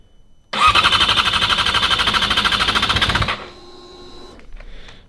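A Yamaha R6 motorcycle engine in freezing cold fires up with a loud, rapid, buzzy idle for about three seconds, then cuts out abruptly, recorded up close.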